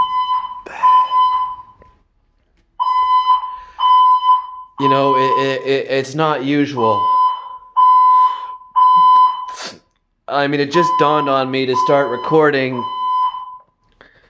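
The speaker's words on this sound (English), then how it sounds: "for the alarm to go off this much, this frequently in this building" A building's fire alarm sounds in repeated loud electronic tone bursts with short gaps, going off again and again, while someone talks over it at close range.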